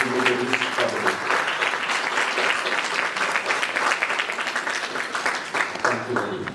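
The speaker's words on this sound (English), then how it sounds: "let us all join our hands in a big round of applause welcoming our speakers and eminent dignitaries for the day" Sustained audience applause in a hall welcoming speakers and dignitaries, dense steady clapping for several seconds with a few voices mixed in.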